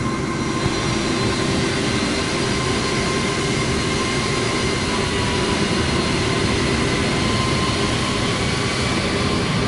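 An airliner's jet engines roar at takeoff power in Microsoft Flight Simulator 2024, a loud, steady, broadband rumble with faint tonal whine held throughout, no voices.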